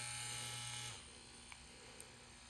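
Yuelong tattoo machine running at its top setting, a steady electric buzz that drops in pitch and level partway through and continues as a quieter hum, with two faint clicks.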